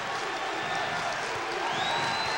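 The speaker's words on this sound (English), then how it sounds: "And now the crowd gets back into the game." Arena crowd at a 1996 UConn at Rutgers men's college basketball game cheering and roaring, a steady loud wash of voices and applause throughout.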